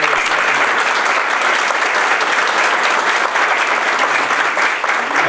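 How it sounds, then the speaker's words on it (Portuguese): A seated audience at a retailers' association breakfast talk gives a professor a loud, sustained round of applause, dense steady clapping with no pauses. "uma salva de palmas para a professora"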